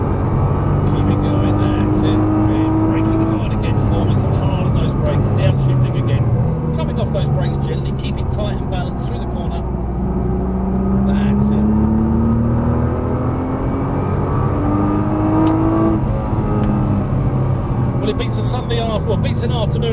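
Nissan GT-R braking hard and downshifting on a race track, loud in-car engine roar with rising and falling revs and blips between gears, with people talking over it throughout.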